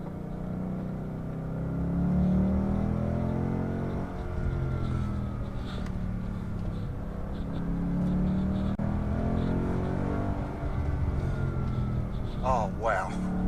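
A car engine holds a steady throttle through a turn, a continuous low drone with a few gentle rises in pitch under near-constant talking. The car has upgraded suspension.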